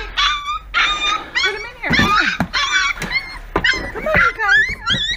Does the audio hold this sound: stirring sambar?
no